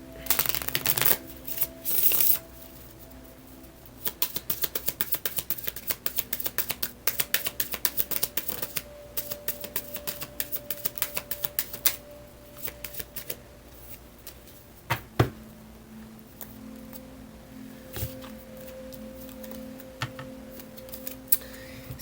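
An oracle card deck is shuffled in close, quick bursts of crisp riffling clicks and flutters, repeating in a steady rhythm with brief pauses between handfuls, with no talking over it.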